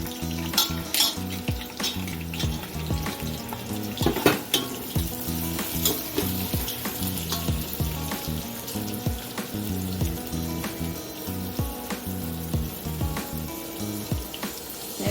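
About 400 grams of onions and eight green chillies frying in a pan for prawn biryani, a loud continuous sizzle with rhythmic spatula scrapes and stirring strokes throughout, close up and without voices.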